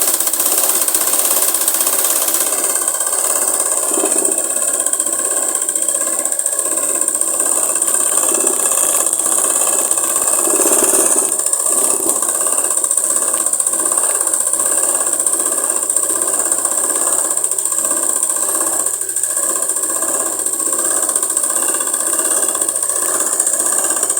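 A sewing machine runs a continuous seam on a girl's umbrella frock, sewing over the stitching a second time. It gives a steady mechanical whir with a thin high whine, heard alone at moderate volume.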